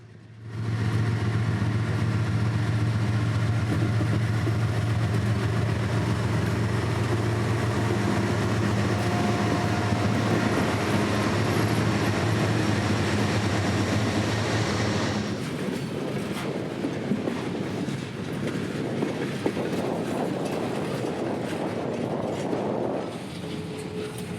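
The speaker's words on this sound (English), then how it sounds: "the crew would pull out a long cut of intermodal, past the signal here at AY, and onto the main line" A freight train pulls a long cut of intermodal container and trailer cars onto the main line at AY in Central Florida, with a loud, steady rumble and locomotive drone, then rolling wheel clatter as the cars pass.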